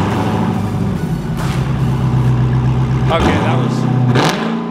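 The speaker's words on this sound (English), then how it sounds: "This is what it sounds like with no exhaust." A Dodge Hellcat engine revs with no exhaust fitted, a loud raw roar rising in pitch in a couple of sharp throttle blips, while someone talks over it.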